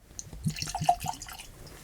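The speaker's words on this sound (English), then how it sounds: "let's go ahead and pop this cork for the first time and get it poured" Peerless Double Oak bourbon, a non-chill-filtered sweet mash whiskey, is poured from a freshly uncorked bottle into a glass, giving a short, soft run of liquid trickles and drips, quiet and close.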